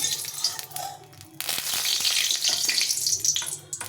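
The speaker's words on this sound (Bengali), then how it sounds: "সরষের তেল দিয়ে পনিরটাকে একটু ভেজে নেব।" Paneer frying in hot mustard oil in a kadai: a steady, loud hiss that swells into a fuller sizzle partway through and stays bright and continuous to the end, close by.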